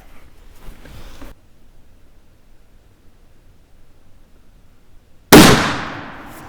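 A single loud, close gunshot from a CVA Accura MR-X .50 caliber muzzleloader outdoors, a sharp blast followed by a decaying rumble after a few seconds of quiet.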